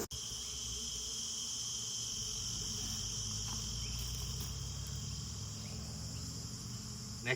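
A swarm of honey bees drones steadily around a hive, a dense continuous buzz that holds at an even level from start to finish with no talking.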